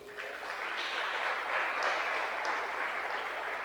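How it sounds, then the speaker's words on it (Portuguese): Church congregation applauding during a family worship service, a continuous, fairly loud wash of clapping from many hands that holds steady throughout. "Aplauda o Senhor, irmãos."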